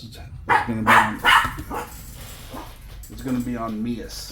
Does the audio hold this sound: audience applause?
no